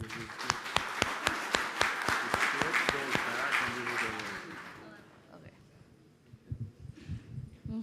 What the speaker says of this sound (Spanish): Vamos a darle un fuerte aplauso a Andre.